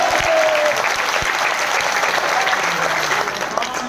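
An audience at a motivational training session bursts into loud, dense applause that stays steady and continuous throughout, with faint voices mixed underneath.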